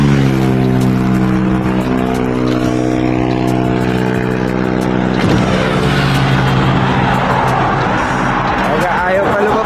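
A truck engine idles with a steady low rumble, then revs and rises in pitch midway and stays loud and close, with voices talking over it.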